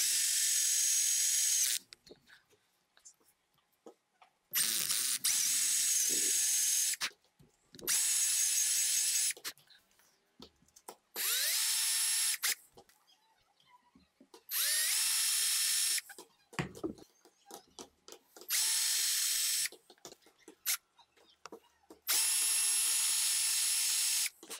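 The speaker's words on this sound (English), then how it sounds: "I will drill line ties and hook hangers" A small power drill bores holes in a wooden crankbait fishing lure in repeated bursts of a couple of seconds each, separated by pauses with light handling and clicking sounds.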